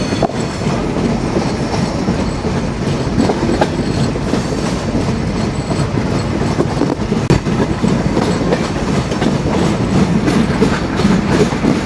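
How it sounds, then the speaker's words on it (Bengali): Kapotaksha Express rounding a bend just past Mobarakganj station on the Khulna to Rajshahi line: a loud, steady close rumble with continuous clickety-clack of wheels over rail joints and no voices. "মোবারকগঞ্জ রেলওয়ে স্টেশন পেরিয়ে কপোতাক্ষ এক্সপ্রেস ট্রেনটি একটি বাঁক নিয়েছে"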